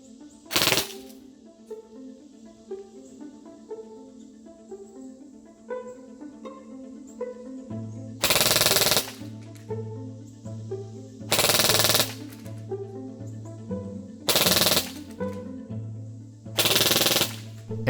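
Krytac Kriss Vector airsoft AEG on a freshly charged 11.1 volt LiPo battery firing full-auto bursts, a rapid mechanical rattle in several loud strings of about a second each, with quieter clicks between them.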